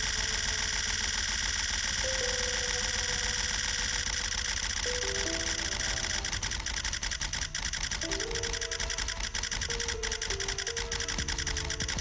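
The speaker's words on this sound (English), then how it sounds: "This is what the Nikon Z9 sounds like." A Nikon Z9 camera firing a continuous burst, its shutter clicking in a rapid, steady run that grows denser toward the end, over a constant tonal hum.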